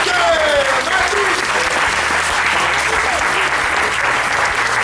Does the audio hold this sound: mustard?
no